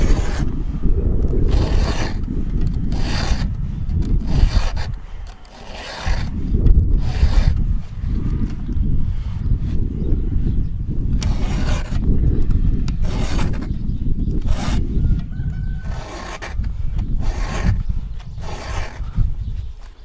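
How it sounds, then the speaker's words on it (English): Repeated hand-filing strokes on a chainsaw chain, a rhythmic rasping scrape roughly every second, close and fairly loud with no talking. "That is your basic sharpening a saw."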